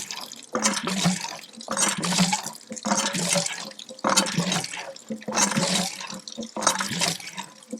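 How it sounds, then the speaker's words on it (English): Newly primed hand pump on an allotment drawing sandy groundwater from a new bore beneath London, gushing in regular bursts about every second as each stroke pushes water out, close and fairly loud. "Now we've got the suction and we're starting to pump."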